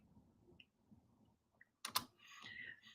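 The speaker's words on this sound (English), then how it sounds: "I'll type his name here." A few quiet keystrokes on a computer keyboard, followed by a short burst of louder clicking typing, close and isolated in a quiet room.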